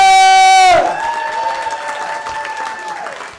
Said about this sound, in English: Get the fucking clapping, y'all.